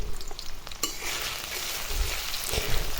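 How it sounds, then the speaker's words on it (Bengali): Potatoes and onions fry in a pan with a steady sizzle, stirred now and then, with a brief scrape near the start and louder crackling toward the end. "এখন আলুটা ভেজে নিব।"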